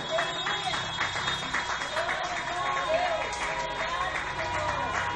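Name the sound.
congregation applauding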